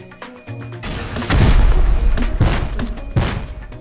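Rocket explosions blowing open a base in Rust, heavy booming blasts in quick succession with crashing debris, loud and close, after a brief thump at the start.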